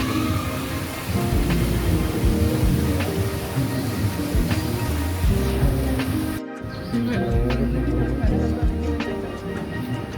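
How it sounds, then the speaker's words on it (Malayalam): An indoor waterfall inside the National Aquarium Abu Dhabi gives a constant rushing splash, a broad wash of water heard alongside talking and hall noise, with a brief break partway through. "വെള്ളച്ചാട്ടം."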